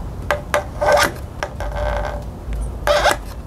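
A plastic cutter scraping and rasping across plastic in short repeated strokes, several quick raspy scratches and longer drags, close up with no talking.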